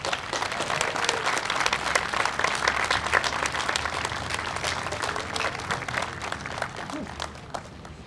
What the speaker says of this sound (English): Big round of applause for C4.